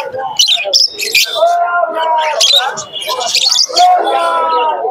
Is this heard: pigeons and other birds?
yes